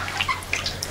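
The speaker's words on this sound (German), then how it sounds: "Mit heißem Wasser werden die Hühner abgebrüht," Hot water poured over chickens to scald them before plucking, a short close run of splashing and dripping water.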